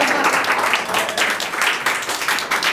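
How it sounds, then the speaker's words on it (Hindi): Audience at a Hindi stand-up comedy show breaks into loud, sustained clapping, a dense continuous wash of hand claps close by with no pauses. "एक बार ज़ोरदार तालियां हो जाए सबसे टैलेंटेड मेरे लिए।"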